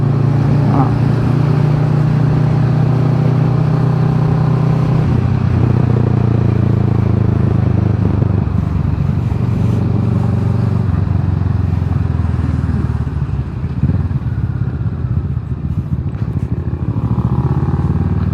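A 2017 Kawasaki Ninja 650 KRT motorcycle ridden slowly in the evening, its steady low engine drone and road rumble continuous and close throughout, with wind noise and a person speaking over it.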